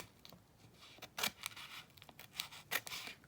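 Several quick, crisp snips of scissors cutting through thin vinyl backing, close and quiet, in short irregular bursts.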